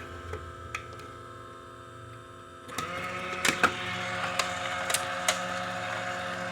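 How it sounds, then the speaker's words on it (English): A car engine, smoking around its seals during a PCV valve check, starts up and settles into a steady running hum with faint ticking, following a quieter idle-like drone, with no talk heard. "Let's just start the engine."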